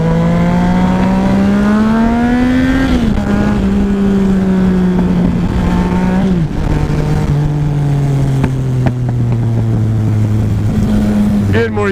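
Sport motorcycle ride on a Suzuki SV650S or Yamaha FZ-09, with a loud, steady engine drone rising and falling in pitch through gear changes and wind noise, close to the microphone throughout.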